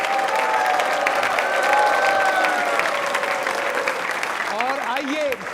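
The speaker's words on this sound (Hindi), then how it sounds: "मुस्कुरा के तालियां जोरों से बजाइए आप" A large audience of trainee state civil services officers at a quiz show breaks into loud, sustained applause, dense and continuous throughout, with a few voices rising over it near the end.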